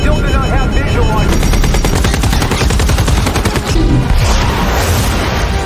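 Loud assault rifle gunfire rattles in rapid automatic bursts with a faint helicopter-like drone behind, near and relentless, with a voice briefly underneath.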